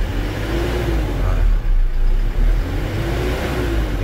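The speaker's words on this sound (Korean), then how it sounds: "엔진음 한번 들려봐 드릴게요. 아, 시동 굉장히 깔끔하게 잘 걸리고요." A 2017 Hyundai All New Mighty 2.5-ton refrigerated truck with about 160,000 km idles with a loud, steady diesel rumble, its pitch briefly rising and wavering as the engine revs slightly.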